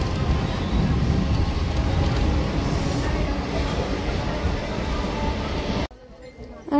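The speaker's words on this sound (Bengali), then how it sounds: "এই 8:02 বগুড়া থেকে ট্রেন ছাড়বে" A local commuter train at a station platform gives a continuous broad rumble and rattle at moderate level, which cuts off abruptly about six seconds in, leaving near quiet.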